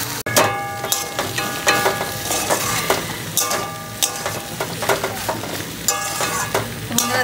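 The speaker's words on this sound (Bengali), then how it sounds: "এবার এটা নেড়ে চেড়ে গ্যাসটা কমিয়ে দিয়ে আর একটু সময় আমি এটাকে রেখে দেবো।" Mixed vegetable curry sizzles and fries in a pan while a spoon stirs it, with loud, close scraping strokes repeating over a constant crackle. No voices.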